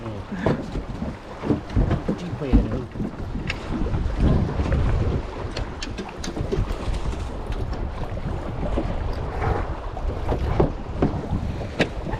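Strong wind buffets a boat at sea near Ko Phetra, Satun, with rough waves; loud gusty rumble and thumping hull knocks continue throughout.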